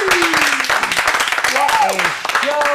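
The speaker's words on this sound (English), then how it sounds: "give yourselves a round of applause" Audience applause at an improv showcase in an acting studio, a short burst of clapping mixed with cheering voices and whoops.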